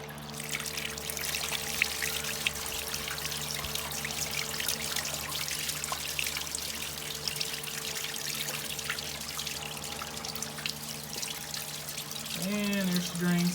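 Coolant runs in a steady stream from the radiator of an Oliver 550 tractor, a continuous close trickling pour with a low hum beneath.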